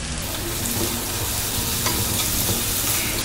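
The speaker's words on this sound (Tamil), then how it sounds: "வெங்காயம் வதங்கிடுச்சு." Small onions, curry leaves and salt sauté in oil in a small kadai, a continuous close sizzle with occasional stirring scrapes and no voices.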